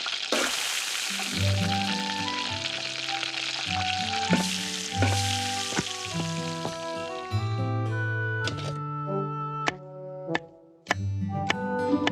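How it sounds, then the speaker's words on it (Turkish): Cartoon cooking sound of food frying in a pan, a steady sizzle running under bright musical tones and chimes, fairly loud with no voices. "Biraz bekle lütfen. Şu anda yemek yapıyorum."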